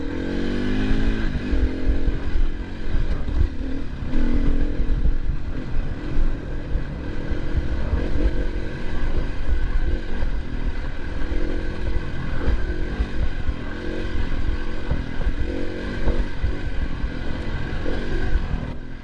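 A dirt bike runs along trails near Aztec, New Mexico, its engine droning and revving continuously up close with clattering and wind throughout, no voices.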